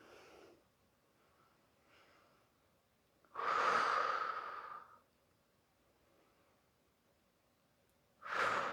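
Slow, audible breaths taken while holding a twisted high lunge in yoga: a soft inhale, then a long, loud exhale, and another exhale starting at the end, close and quiet between breaths.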